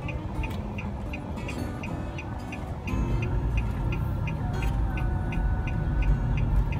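Cabin noise inside a moving car: a steady low engine and road rumble that swells a little midway, with a regular ticking like a turn signal over it and no clear speech.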